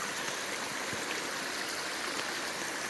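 A tiny mountain branch runs down beside a forest trail at Joyce Kilmer Memorial Forest, a steady, even babble of flowing water heard close and continuous without voices.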